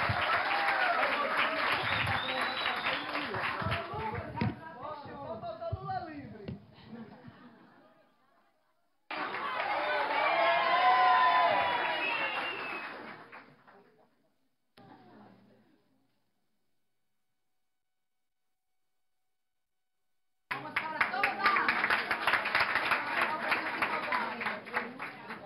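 Applause from an audience at a formal session honoring women fills the hall in long bursts of clapping, fading to silence, then returning loudly near the end, with a murmur of crowd chatter beneath.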